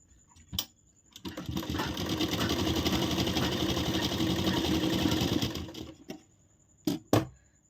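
A sewing machine stitches blouse lining and main fabric together in one continuous, close, humming run of about five seconds, framed by a few sharp clicks before and after.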